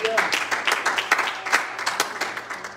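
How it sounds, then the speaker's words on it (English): A church congregation clapping their hands together in a quick, loud, rhythmic burst, with a voice sounding faintly underneath. "Would you clap your hands unto the Lord?"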